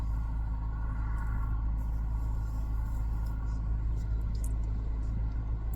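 Car driving home with the window down, steady loud low road rumble and engine drone with wind noise throughout, no distinct events.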